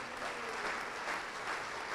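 A congregation claps steadily at a church service, a dense, continuous wash of applause from many hands filling the room without pause.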